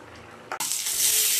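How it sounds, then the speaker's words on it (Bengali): Fish drop into hot oil in a pan and break into a loud, bright hiss that stays steady and strong once frying begins, close up and with no talk. "এখন একটু মাছগুলো ভেজে নিচ্ছি"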